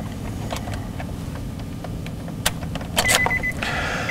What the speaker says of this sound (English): I want to activate it by putting the key into the ignition